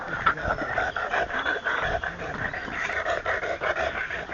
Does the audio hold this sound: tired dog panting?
yes